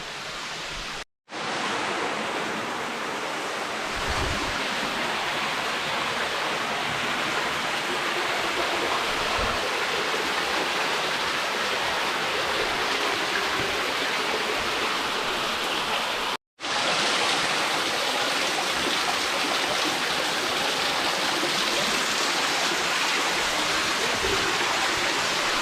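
Water pouring down a rock cascade at Zebra Rock in the Wichita Mountains: a constant, broad rushing roar, close and loud, cut by two brief dropouts.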